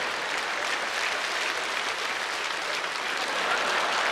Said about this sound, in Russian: под эти громовые овации на сцене